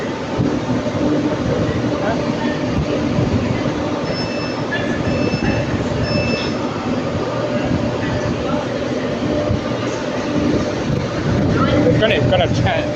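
Train running through Crewe station, a steady loud rumble of wheels and traction noise filling the whole stretch, with faint high squeals and tones partway through.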